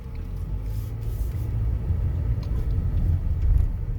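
A car drives through the streets of Harlan, Kentucky, heard from inside as a steady, loud low rumble of engine and road noise with no talking.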